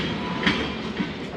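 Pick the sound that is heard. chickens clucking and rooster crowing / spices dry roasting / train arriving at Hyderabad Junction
train arriving at Hyderabad Junction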